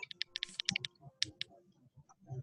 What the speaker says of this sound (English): Here, Veronica typing.